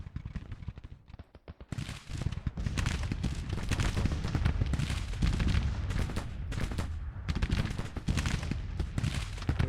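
Dense, sustained musket and artillery fire from a Grand Tactician Civil War battle, a continuous loud rattle of many overlapping shots with heavy low rumble after a brief quieter start.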